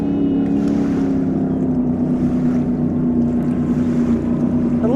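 Loud motorboat engine droning steadily on Lake Havasu, a constant close hum with wind and water wash, no talk.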